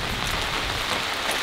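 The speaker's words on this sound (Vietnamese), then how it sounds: "Bây giờ mưa rất to đây." Heavy rain pours down in a steady, dense, close roar that fills the whole moment without a break, and no voices can be heard over it.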